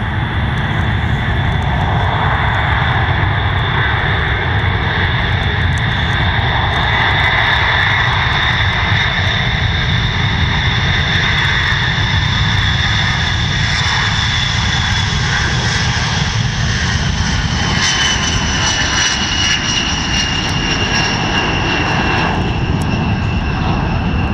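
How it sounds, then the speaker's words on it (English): A B-52 bomber takes off from Jacksonville International Airport, its engines giving a loud, continuous roar with a steady whining tone layered over a deep rumble throughout. "This is a B-52."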